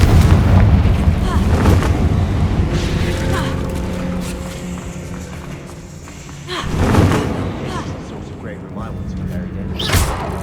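Spell blasts in the Hogwarts Legacy video game, a string of booming thuds and explosive bursts mixed with game music and ambience, with a louder swelling impact near the middle and another near the end, while a voice speaks over parts of it.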